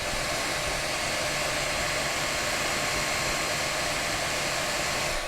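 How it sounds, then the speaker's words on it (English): Cooling fans on a Creality Ender-3 V2 3D printer whir steadily during a print, a constant broadband airy hiss at even loudness with no voices. "there is quite a bit of fan noise, and that's coming from all around, including the bottom"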